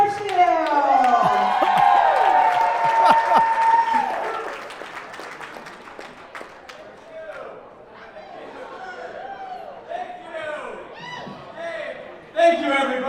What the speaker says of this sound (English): Please give a big round of applause to your first comic of the night, Jack Herschel.